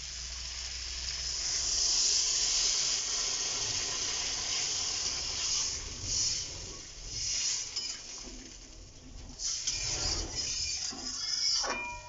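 Water poured into a pan of hot oil-fried spices bursts into a loud, steady sizzle and hiss that gradually softens and bubbles, with a few faint clinks of a utensil against the pan and no talk.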